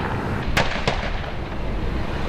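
Two sharp gunshots crack during a neighborhood police standoff on a Tuesday evening in La Joya, fired in quick succession over a steady outdoor background hum, sounding loud yet somewhat distant.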